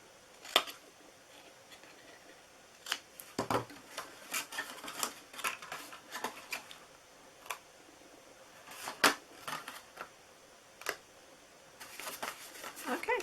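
Scissors snip and trim paper for a curly ribbon birthday treat box, with scattered crisp cuts and rustling handling sounds coming close and intermittently, no voices.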